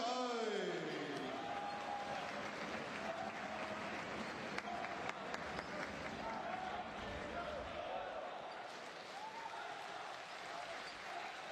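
Hong Kong basketball players clap and applaud fans in the arena after a FIBA World Cup Asian qualifier against China, scattered crowd applause and noise continuing under a commentator's talk, with occasional ball bounces.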